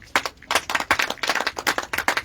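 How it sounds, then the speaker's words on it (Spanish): A church congregation applauds during a sermon, a burst of irregular overlapping hand claps of moderate loudness lasting a couple of seconds, with no talking. "Den un aplauso a Cristo"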